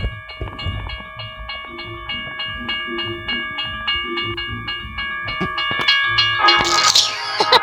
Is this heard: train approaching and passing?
yes